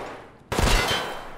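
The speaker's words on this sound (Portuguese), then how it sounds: "quem me atirou?" Gunfire in the video game Escape from Tarkov, a single sudden loud burst that cuts in from quiet and rings out with a long, broad decay.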